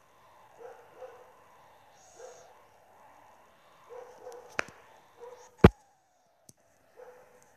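A dog barks repeatedly in the background, in short soft bursts spread across several seconds, with a few sharp clicks in between.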